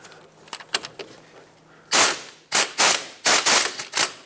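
Ratchet bursts on the hub bolts of a 2014-2021 Mazda 6 front wheel bearing and hub assembly, several loud, close clicking runs in quick succession after a few lighter taps.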